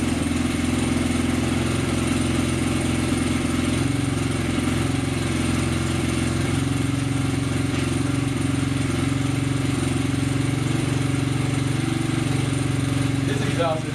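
A 1993 Honda XR100 dirt bike with its OEM exhaust idles steadily, a low, fairly quiet even engine note running unbroken from start to finish, with a brief faint clatter at the very end.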